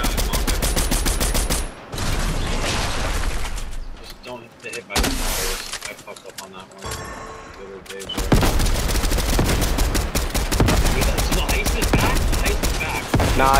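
Rapid rifle gunfire from a Fortnite ranked match crackles in dense bursts through most of the stretch, with short lulls, loud and close, while players talk over it.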